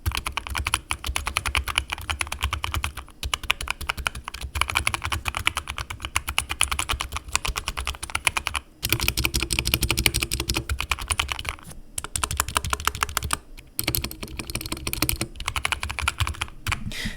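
Fast, continuous clacking of a modded HyperX Alloy Origins Core keyboard with lubed switches, typed close-up in a text editor, with a few brief pauses between bursts.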